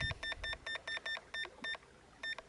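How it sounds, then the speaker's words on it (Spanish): Toslon TF500 fish finder sounding its low battery alarm: a rapid run of about nine short, evenly spaced electronic beeps, clear and close, with no talk. "Batería monitor baja. En ese momento te estaría avisando que has llegado al voltaje mínimo al que rinde la batería."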